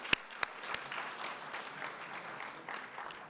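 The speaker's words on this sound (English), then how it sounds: "Let's give the mentors a round of applause." A room of graduation guests gives the mentors a round of applause: moderate, steady clapping that spreads evenly through the space, with a few sharper claps standing out near the start.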